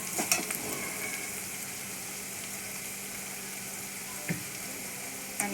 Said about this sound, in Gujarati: બધા વેજીટેબલ થોડી વાર આપણે સાતળવા દઈશું.